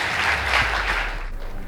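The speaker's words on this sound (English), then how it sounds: "Please give them a round of applause." An audience at a school debate competition claps for the team from Uasin Gishu High School, a short, dense burst of many hands that thins slightly toward the end.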